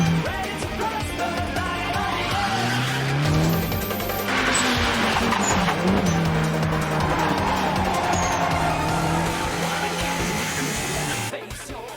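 A Toyota AE86 with a new race engine drifts at full speed during a race battle, its engine pitch sweeping up and down under sustained tire squeal.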